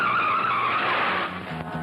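A car's tires squeal loudly as it skids to a sudden stop, the screech fading into a low engine idle within about two seconds.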